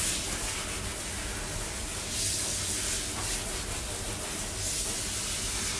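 A steady water spray hisses without a break while shampoo is rinsed off a Bichon dog's face during grooming. It sounds close and continuous at an even level, and no one speaks.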